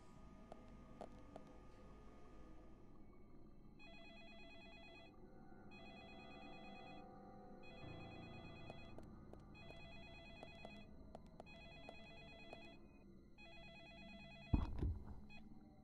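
A telephone rings in the Deadly Premonition video game, repeated electronic bell bursts in an even on-off rhythm over a quiet room tone, with a sharp knock near the end.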